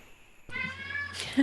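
A cat gives a single short meow close by, cutting in briefly over quiet room tone.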